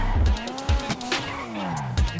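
A bulletproof car fitted with nitro in a GTA RP video game skids hard, tires squealing in a long sweeping screech, with engine revs and several thumping bumps along the way.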